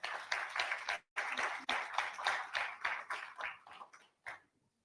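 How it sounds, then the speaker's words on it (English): An audience at a business event applauds for Flora Mutahi in a few bursts of clapping, broken by brief gaps, that taper off and stop near the end; fairly quiet overall. "Ladies and gentlemen, a round of applause once again for Flora Mutahi."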